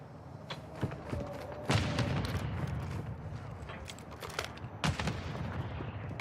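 A grenade blast and bursts of gunfire from a Call of Duty Modern Warfare II (2022) match, with several sharp explosive cracks standing out over a dense, steady battle din, all moderately loud and close.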